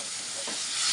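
Dry masala spice paste sizzles hard in a pan after a splash of water is added, a close, dense, hissing fry with a faint scrape of stirring, short and continuous.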